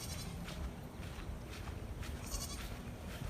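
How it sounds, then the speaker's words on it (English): Goats bleating while perched on top of a Jeep, short faint bleats over a dense hiss of outdoor background noise, brief and somewhat distant. "the goats are on top of my Jeep"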